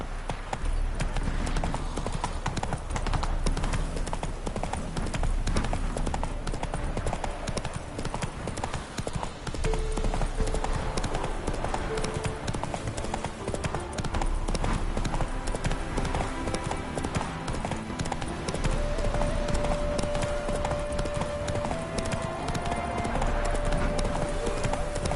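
Roach the horse gallops in The Witcher 3, a steady, continuous patter of hooves running for the whole stretch, loud and close, with game music or ambience layered underneath.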